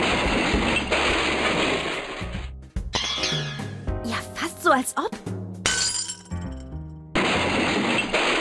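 Glass shatters repeatedly in the video game Edna Bricht Aus, with several loud crashing, tinkling breaks in the middle of the clip between stretches of background music and a speaking voice.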